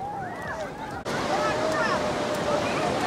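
Waves washing onto the beach at Ballesteros, Cagayan, a continuous moderate surf wash with wind noise and faint crowd babble during a Black Saturday outing.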